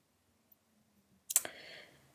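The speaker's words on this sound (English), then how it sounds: "I'm going to click on send." A single sharp mouse click, close and crisp, followed by a short faint rustle, standing alone in an otherwise near-silent room.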